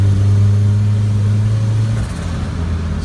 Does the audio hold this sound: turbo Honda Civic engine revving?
yes